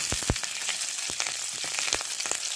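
Curry leaves and three chillies frying in melted ghee, a dense close sizzle peppered with sharp pops and spits at irregular moments, no talking.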